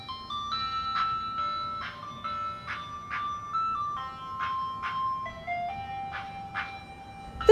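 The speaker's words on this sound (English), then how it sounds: "The ice cream truck. It's following me." An ice cream truck plays its chiming melody, a bright, steady tune of repeated notes over a low road rumble. It rolls along at moderate loudness with no talking.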